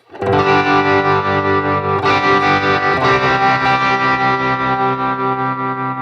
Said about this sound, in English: that sounds good, having the drive on. We also have our vibrato on.